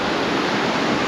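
Ocean surf rolls onto the sand at Old Orchard Beach, Maine, in a dense, steady hiss of breaking water. It is continuous and moderately loud with no talk over it.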